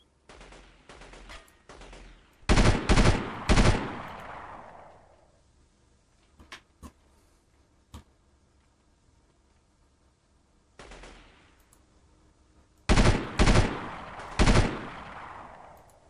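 Gunfire in the video game Delta Force 2 comes in two clusters of loud, close shots with sharp reports and echoing tails. Quieter rattling and isolated clicks fill the gap between them.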